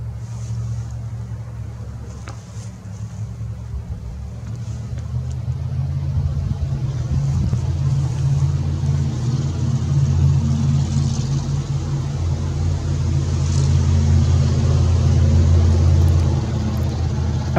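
A big four-wheel drive truck rumbles down a road beyond the woods, its deep engine drone swelling gradually as it nears and echoing through the trees, steady and continuous without any talk.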